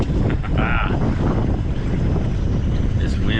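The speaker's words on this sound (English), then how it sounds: "This wind is picking up." Strong wind buffets the microphone on a small fishing boat out on the water, a loud, rough, continuous rumble with gusty swells and faint background voices.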